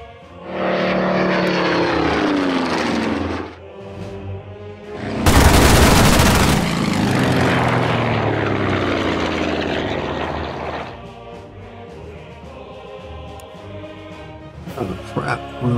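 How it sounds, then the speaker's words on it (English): Propeller warplanes drone overhead in the WW2 strategy game Order of Battle, a loud rumbling engine roar swelling around a sudden blast of explosions and gunfire, then fading to a lower hum with scattered pops. "That could be a lot of airplanes there"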